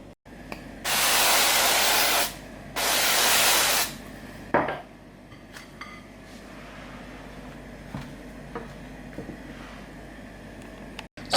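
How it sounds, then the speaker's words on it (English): Zero-calorie cooking spray sprayed onto the bottom of a baking dish for enchilada wraps: two long, close, steady hissing bursts, then a small click, with quiet kitchen ambience afterward. "I'll spray my 0 calorie spray on the bottom of here"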